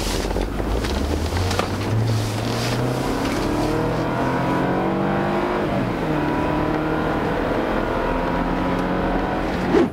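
A BMW 520i F10's inline four-cylinder, 184 hp engine revs up steadily from inside the car, its pitch climbing and droning with gear-like steps, loud and continuous without speech.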